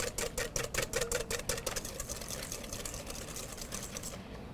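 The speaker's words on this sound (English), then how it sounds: "we're going to whisk that really good" Eggs whisked with rose water in a bowl: fast, rhythmic clicking strokes at first, then fading into a softer, steady scraping whir before stopping.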